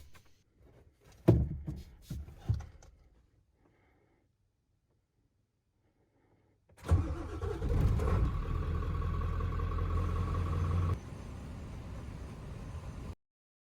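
Car engine cranking and starting after battery cable terminal replacement, with a few clunks and quiet moments first, then the engine catching and running steadily at an even idle, no talking.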